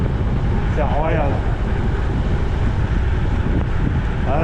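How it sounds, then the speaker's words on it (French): Steady, loud wind rushes over the microphone of a cyclist descending on a gravel ride in the Oise countryside, a constant broadband roar with faint tire and chain noise beneath it and no voice on top. "Un peu de vent là, pour me rafraîchir la gueule."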